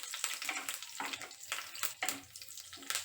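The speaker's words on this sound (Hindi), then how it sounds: "अब इसमें 8-10 कड़ी पत्ते डालेंगे और इन्हें भी थोड़ा फ्राई कर लेंगे।" Curry leaves frying in oil over a low flame give a faint sizzle, broken by soft bursts of crackle and stirring scrapes that recur about every half second.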